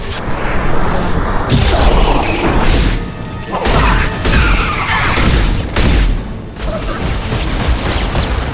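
Heavy weapon fire in Mass Effect 2 combat, a series of loud booming impacts and crashing blasts at irregular intervals, close and forceful throughout.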